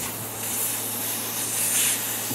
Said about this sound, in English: Now we're going to let the air out.